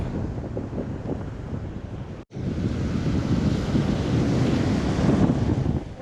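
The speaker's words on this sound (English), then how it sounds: "Well, it's just pretty windy out here." Strong wind buffeting the microphone with a constant low roar, likely surf beneath it, on Lido Key beach during a red tide, broken by a short dropout midway before the gusts resume.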